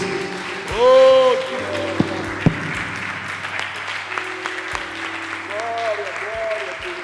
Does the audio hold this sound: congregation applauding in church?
yes